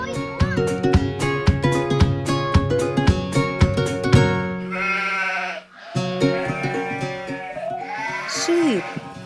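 Sheep bleating in repeated wavering calls, loud and close, mixed with other animal cries and a voice that seems to imitate the bleats, all over a busy animal-sound track.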